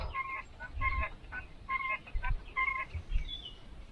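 Penned quail give repeated short chirping and clucking calls in quick bursts, close and fairly faint over a low rustling background, with no voices.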